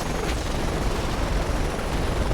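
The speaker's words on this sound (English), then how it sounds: "You gun down a couple of choppers," A helicopter in a video game roars loud and steady, a dense whirring rotor noise filling the whole stretch with no break and no talking.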